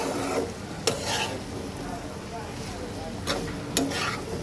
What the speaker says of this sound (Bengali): এবার এটাকে সুন্দর করে কষাবো, কম আঁচে